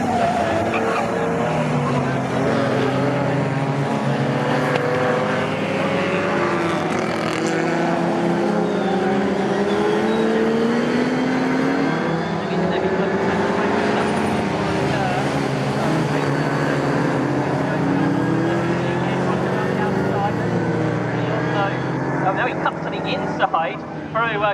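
Vintage pre-1963 and 1950s racing cars in the Equipe series race at Snetterton, engines roaring loudly and continuously as the pack brakes and turns through corners, with a commentator talking over the noise throughout.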